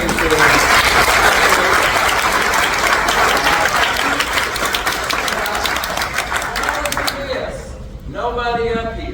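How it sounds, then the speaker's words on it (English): Audience applause at a meet-the-candidates citizen meeting, a dense, loud round of clapping for eight election candidates that lasts about seven seconds and then fades as a voice begins talking. "these 8 candidates deserve a round of applause"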